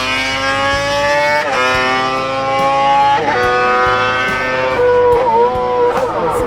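A Honda five-cylinder racing motorcycle engine screams at high revs, its harmonic wail rising and dropping through repeated gear changes, loud and close with no voices.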